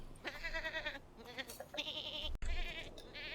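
Goats bleat repeatedly in The Sims 4 on a ranch with sheep, the nasal wavering cries coming in several close calls over soft background sound.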